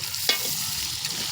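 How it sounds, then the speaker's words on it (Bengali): Pre-fried chicken pieces go into a wok of cooked-down spices, setting off a brief sizzle and a stirring scrape over a steady low frying hiss. "এইবার ভেজে রাখা মাংসগুলা একে একে কড়াইয়ের মধ্যে যাবে"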